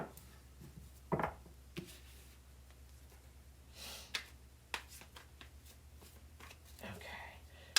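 Soft riffling and flicking of tarot cards being shuffled in short bursts, close by, with quiet breaths and faint whispered sounds between them.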